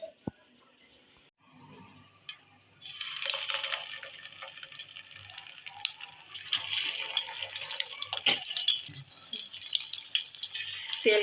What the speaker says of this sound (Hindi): अब हम इन्हें फ्राई करेंगे।